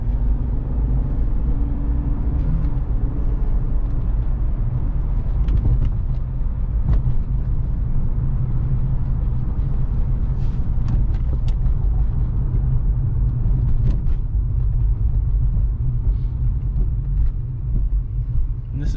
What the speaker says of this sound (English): Hear the car.